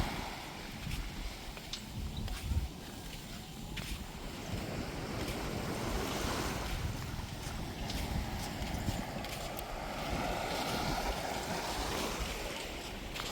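Ocean waves wash steadily onto the seashore, a continuous moderately loud surf with wind noise and faint rhythmic thumps, with no speech over it.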